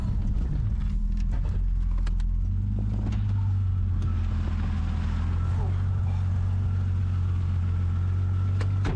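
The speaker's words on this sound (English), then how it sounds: "Ronaldo's monster truck is back on the road" A monster truck engine rumbling as it drives, a steady low drone with a shift in engine note early on, plus intermittent knocks and rattles, heard from up close with some talk over it.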